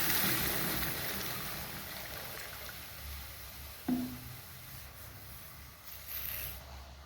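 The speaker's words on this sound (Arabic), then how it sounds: "اذا انا حطيت نص لتر ماء" About half a litre of water is poured over sugar in a pot for syrup, giving a steady rushing pour that gradually fades, with a single soft knock partway through.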